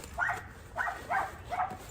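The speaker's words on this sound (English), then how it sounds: "As our puppies making noise while we're trying to do some talking." Puppies bark in four separate bursts, a steady rhythm of short mid-pitched yips at moderate distance, with no talk over them.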